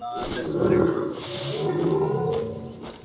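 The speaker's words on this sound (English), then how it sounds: "No matter what your sound, I know you are a Cape buffalo" A Cape buffalo in the hunting game theHunter: Call of the Wild gives a long, rough, roaring bellow, swelling twice, with someone talking over it.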